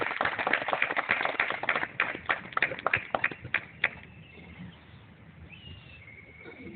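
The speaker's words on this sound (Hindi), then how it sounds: "एक बार जोर से तालियां बजा के हर्ष जी से मैं अनुरोध करूँगा" An audience at a public gathering claps loudly, a burst of fairly close, irregular hand claps for about four seconds that thins out, followed by quieter room ambience.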